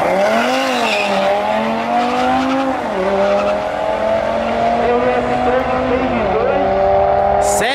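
A Volkswagen Jetta at a drag race launches off the line, its engine rising loud and close through several gear changes with brief dips between them.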